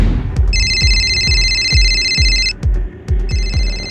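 Telephone ringing in an indoor crime drama scene, a loud electronic trilling ring in two bursts with a short pause between, over a steady rhythmic thudding background.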